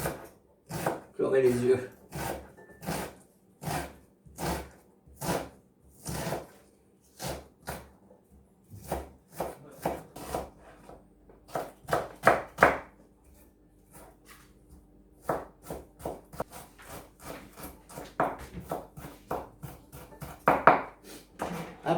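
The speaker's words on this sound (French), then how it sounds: "Comme d'habitude, de l'oignon ciselé." A knife finely chops onion on a cutting board, steady rhythmic taps in bursts at close range, with a person talking over part of the chopping.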